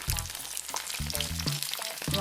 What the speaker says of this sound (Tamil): இதை நாங்கள் வெங்காயம் பச்சை மிளகாய் கடுகு பெருஞ்சீரகம் போட்டு தாளிச்சிட்டு